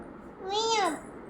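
A small child imitates a cat's meow in a single rising-and-falling voiced cry lasting about half a second, close and clear against quiet room background.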